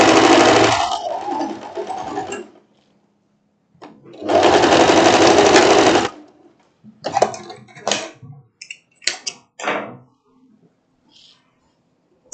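A sewing machine stitches the shoulder seam of a floral wrap dress in two loud, steady runs, each about two seconds long, followed by short bursts of fabric handling and taps.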